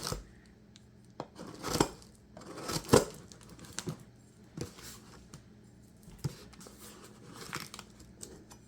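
A knife slitting open the tape and packaging of an eBay parcel, close and fairly quiet, with scattered sharp cuts, tears and crinkles at an uneven pace.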